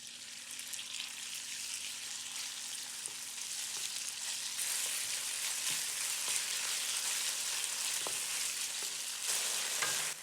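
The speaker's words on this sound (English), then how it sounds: "Add the oil into the hot wok and add the beef to brown." Beef browns in hot oil in a wok, a steady loud sizzle and crackle that runs on and swells partway through, with faint scraping of stirring.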